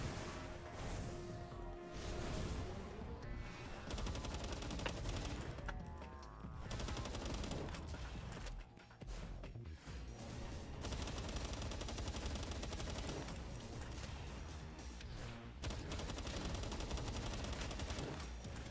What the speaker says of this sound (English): Trying to shoot it right in the retina.